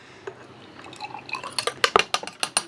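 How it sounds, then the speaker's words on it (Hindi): Buttermilk is poured into a pounded herbal mixture, making a run of close liquid drips and splashes that grow denser and louder toward the end, with no talking. "अब थोड़ा सा हम मट्ठा इसमें जब डालेंगे"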